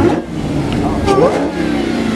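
A Dodge Hellcat at a crowded car meet revs briefly, a loud mid-pitched engine surge rising and falling under excited voices and crowd chatter.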